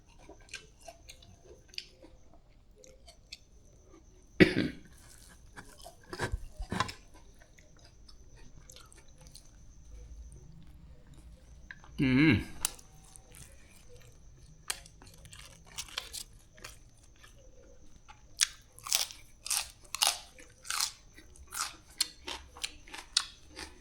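Crispy fried mackerel seasoned with fish sauce and chili powder crunched in close bites, a few sharp crackles early on, then a dense burst of rapid crunchy chewing toward the end.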